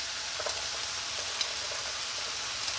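Carrots and garlic going into a pot of chicken and okra stew, heard as a strong, even sizzle with faint stirring scrapes and a few small knocks, alone and close.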